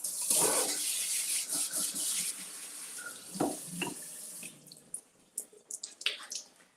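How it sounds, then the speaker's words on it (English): Water from a kitchen tap runs steadily while something is rinsed underneath, close and fairly loud, then breaks into short splashes and drips as the flow is interrupted, with no talking. "Let's rinse this off."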